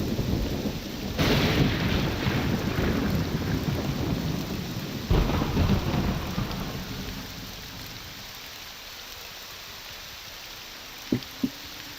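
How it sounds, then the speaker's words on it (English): Thunderstorm in the video game Morrowind: steady heavy rain hissing throughout, with deep thunder rumbles swelling twice before the downpour softens near the end, followed by two short knocks. "When it storms in Morrowind, it's awful."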